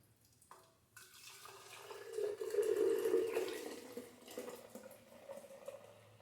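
Homemade almond milk pours into a Ball jar, a soft liquid trickle that swells to a fuller gurgling stream in the middle and then tapers, close and fairly quiet.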